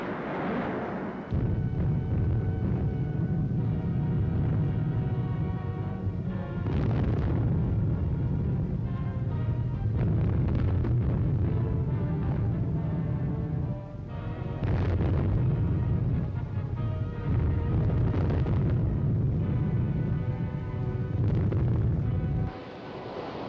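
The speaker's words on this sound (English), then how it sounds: "Under cover of protective smoke screens and a barrage of light guns and rockets" Light guns and rockets fire in a barrage at Iwo Jima in 1945, a loud, continuous rumble of blasts and booms that surges in long waves and briefly dips between them.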